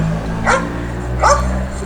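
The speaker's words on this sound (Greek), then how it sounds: "Τι σκυλί είναι?" A dog barks twice at an even interval, close and clear over a steady low background hum.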